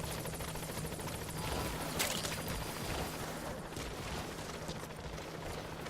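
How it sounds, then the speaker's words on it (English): Support helicopter in Metal Gear Solid V: The Phantom Pain, a steady broadband rotor and engine roar holding at an even level throughout, with a faint low hum beneath and no speech. "My support chopper."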